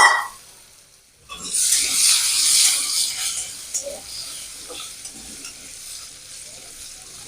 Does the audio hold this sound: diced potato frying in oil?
yes